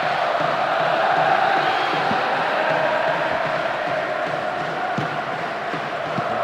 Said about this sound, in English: The rhythm of this game appreciated by the crowd